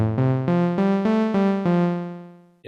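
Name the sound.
sample of a Korg Volca Keys synthesizer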